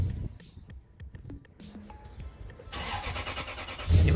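Lexus LS400 with a rear-mounted turbo engine on its first start: a string of faint clicks and ticks gives way to a steady, loud, broadband engine roar that builds, with a deeper low surge at the very end.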